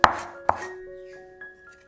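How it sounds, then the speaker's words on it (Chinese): A knife chops through a lime on a board in two crisp, close strikes about half a second apart, then a faint ringing tail fades away. "酸柑对半切"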